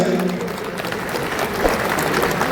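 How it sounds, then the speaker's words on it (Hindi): An audience claps at a political speech in Bihar, a steady wash of applause held at an even level with voices mixed in. "केंद्र में मोदी जी के लिए ताली नहीं बजाएंगे?"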